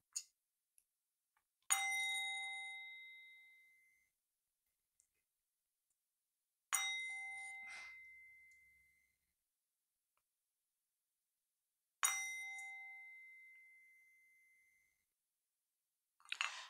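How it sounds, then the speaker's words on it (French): A Tibetan singing bowl is struck softly three times, about five seconds apart, each strike a clear metallic ring that slowly fades away into silence. "3 petits coups de bol tibétain."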